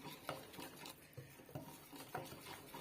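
Pizza dough being mixed by hand in a bowl after salt is added, producing close, soft squelching and patting with occasional light clinks of the bowl, steady and unhurried, no voices.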